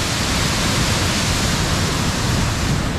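Water rushing under heavy pressure at a dam in Punjab, a dense, loud, continuous roar of churning flow with no breaks and no voices.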